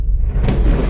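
A brief, deep rumbling boom, loud and heavy, rolling for about a second.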